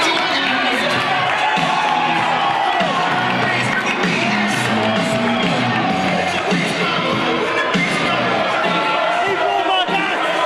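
A wrestling crowd roars and cheers continuously after an X Division match, a dense wall of shouting and whoops with an announcer talking over it.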